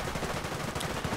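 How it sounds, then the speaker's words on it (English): Rifle fire from British infantry units in Company of Heroes crackles in rapid overlapping bursts, a dense, loud volley of shots packed into about a second with no voices. "that's called synchronized shooting"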